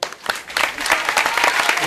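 An audience applauds at a Sicilian stage play's curtain call, a dense, steady burst of many hands clapping that fills the whole moment without any talking.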